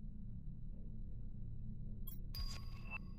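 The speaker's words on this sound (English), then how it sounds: "And we'll get the notification that it's sold the pulsar quartz." A short, faint electronic chime sounds near the end as an item is sold in the video game Planet Crafter, a soft ringing tone with a brief shimmer, over a steady low hum of background game ambience.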